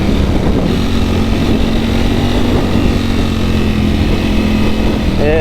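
A Ducati Panigale V4S superbike engine, hot from running, revs steadily in a loud, continuous drone that stays close and even throughout, with only a slight rise near the end.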